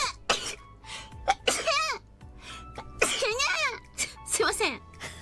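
A VTuber sneezes several times in quick succession, with sharp bursts mixed with coughs and high, excited voices talking between them, all close and loud.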